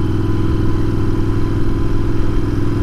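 Royal Enfield Interceptor motorcycle fitted with a high-flow airbox cover rides along the road, its engine a loud, steady, throbbing drone close to the rider with no talk.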